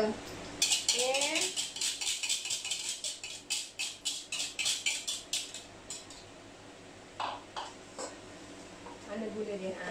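Egg whites and sugar are whisked in a bowl for a chiffon cake, with quick rhythmic scraping strokes of the whisk against the bowl that speed up, pause, then resume, fairly close and moderately loud.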